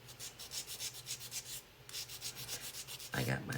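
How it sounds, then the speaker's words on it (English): Hand sanding to remove painted letters, with steady rhythmic rasping strokes in quick succession, close and clear, a brief pause midway and a harder scrubbing stretch at the end. "So I wonder if I can sand these off."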